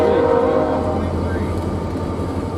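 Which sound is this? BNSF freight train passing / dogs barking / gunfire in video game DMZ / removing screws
BNSF freight train passing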